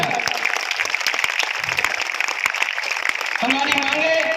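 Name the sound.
crowd applause at a rally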